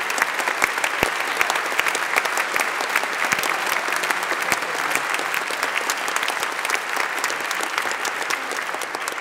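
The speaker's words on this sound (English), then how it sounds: "warm applause for all 7 winners of our Grand Prix" Warm applause from a large audience at the European Heritage Awards 2017 ceremony, honouring seven Grand Prix winners; dense, steady clapping with scattered sharper claps sustained at full strength throughout, no talk.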